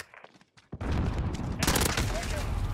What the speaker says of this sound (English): Firing. Still firing.